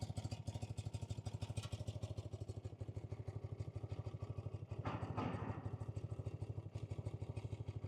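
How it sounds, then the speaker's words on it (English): A fully rebuilt 1987 BMW R100RS motorcycle with its boxer engine running steadily at close range, a constant rhythmic idle pulse throughout with a brief louder surge midway. "And it runs. Yeah, you can see it, you can hear it like a new one."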